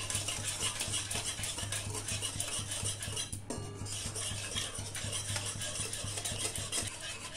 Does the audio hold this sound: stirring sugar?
yes